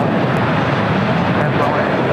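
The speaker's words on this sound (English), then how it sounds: "Korean Air Cargo 777 freighter touching down" A Korean Air Cargo Boeing 777 freighter touches down at LAX, its engines giving a steady, loud broadband roar that stays constant throughout, with radio chatter or voices faintly mixed in.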